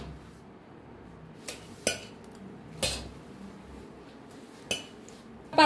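Fermented appe batter being scooped into another pot, with a few sharp metallic clinks and knocks of a spoon against the vessel spaced out over quiet background.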